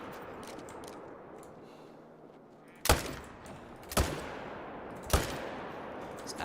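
Three loud rifle shots ring out at uneven intervals in the hunting game Call of the Wild, each a sharp crack trailing into a short echoing decay over a steady outdoor hiss.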